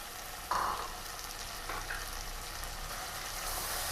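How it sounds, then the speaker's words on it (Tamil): Goat head meat cooking with softened tomatoes in a pan gives a steady, soft sizzle and hiss, with a faint clink or stir near the start and no voices. "இப்போ நம்ம வச்சுருக்க தலைக்கறியும் அதில் சேர்த்துக்கலாம்."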